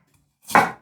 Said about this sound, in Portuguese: Cortar em fatias bem finas. E agora em filetes.